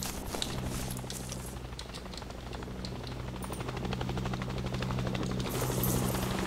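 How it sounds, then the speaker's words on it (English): A helicopter flies over in the video game DayZ, its rotor chopping as a rapid rhythmic thump that grows slowly louder over a low engine hum, heard alone. "hearing a chopper."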